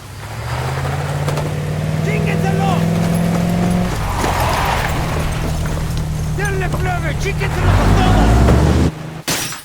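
A truck in the video game Ghost Recon Wildlands drives off with a steady engine drone, loud and continuous, rising toward the end amid background game ambience and chirpy effects.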